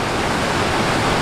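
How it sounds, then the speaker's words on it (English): Roar of a big waterfall in Scotland's wild west in winter, a dense, steady rush of falling water filling the whole short stretch, close and loud, with no voices. "It's a pretty big waterfall."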